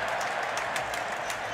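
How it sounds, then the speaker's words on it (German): Crowd noise from a packed Wembley Stadium during an England vs Germany international football match, a steady broad roar of cheering without pause. "Das war der Jubel, weil einer stecken geblieben ist"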